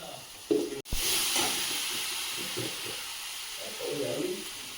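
Ground cumin dropped into a frying masala with salt and turmeric, raising a steady broad sizzle after a brief clatter, continuing close and even while a voice talks over it.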